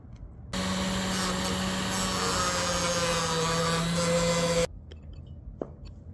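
Grinder cutting down a rivet on a motorcycle drive chain for a 2009-2012 Kawasaki ZX6R, a steady loud whining grind lasting about four seconds with a constant tone, then stopping abruptly to quieter shop background.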